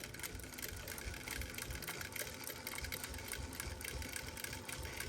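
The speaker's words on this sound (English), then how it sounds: "It's going to stitch off the fabric and then stitch back onto my fabric." Steady, continuous rattling hum of a sewing machine running along quilt binding, faint and even throughout with no pauses or voices.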